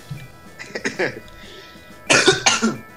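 Two bursts of harsh coughing, the second louder and closer, separated by a brief pause.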